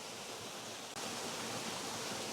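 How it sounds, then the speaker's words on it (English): A small waterfall drip splashes three or four feet away, a dense, steady hiss of falling water, loud and constant throughout with a brief dip partway through and no voices. "I'm about 3 or 4 feet from a waterfall drip that's right near my camera"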